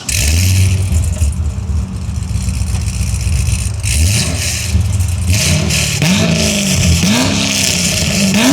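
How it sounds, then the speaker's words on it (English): A 7-liter V8 in a C6 Corvette Z06, louder than stock, revs loudly and repeatedly, rising and falling in pitch with sharp throttle blips, close up and continuous. "For this car being a 7-liter V8, you would think the car would sound a bit different."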